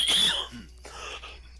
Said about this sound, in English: Did I seriously just cough on the mic?